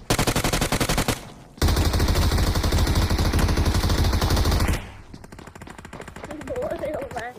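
Rapid UMP submachine gun fire in a video game, sustained bursts of fast automatic shots, loud and close, with a brief pause before a second long burst and quieter game sounds trailing after.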